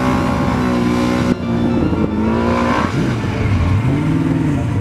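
Race cars pull away along the short opening straight at the Harewood Hill hillclimb, loud nearby engines revving and shifting pitch with an abrupt cut partway through.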